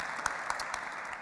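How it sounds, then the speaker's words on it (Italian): Brief burst of audience applause at an Italian lecture event on architecture and archaeology in Napoleonic Rome, dense steady clapping at moderate distance. "Parisi Presicce, Adrian Fernandez Almoghera, possiamo anche fare loro un applauso e ringrazio, prego l'applauso"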